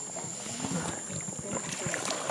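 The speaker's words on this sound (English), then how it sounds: "we're coming up to the dugout canoes here. Take us across the lake. Paddling on out." A dugout canoe is paddled across a lake in the La Selva jungle, with soft irregular water swishes and paddle strokes under a steady high insect or wind hiss, faint and close.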